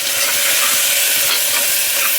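Green gram mixture being sautéed in a pan, a loud, continuous hissing sizzle close up with faint rhythmic stirring beneath and no voices.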